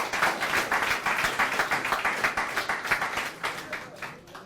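Applause from a small audience after a startup pitch at an investor event in London, sparse hand claps with distinct pulses, moderately near, fading toward the end.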